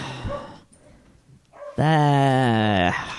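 Dogs in a home react during a conversation: a short bark, then quieter sounds, then a loud drawn-out howl-like bark lasting over a second, near the microphone.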